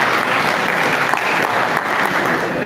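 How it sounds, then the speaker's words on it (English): Audience at an agricultural capacity-building event giving a round of applause, loud, close and continuous clapping from many people that holds steady before cutting off abruptly. "Let's give him a round of applause for that."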